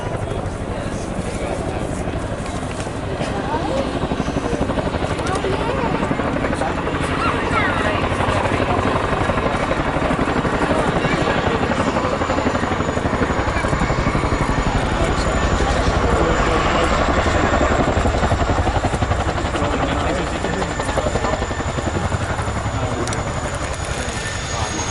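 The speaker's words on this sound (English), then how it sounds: "So this is the Chinook." A Chinook helicopter at an air show gives a steady, loud rotor and engine roar that holds for the whole stretch, with a broad rumble and crowd-level background noise and no clear gaps.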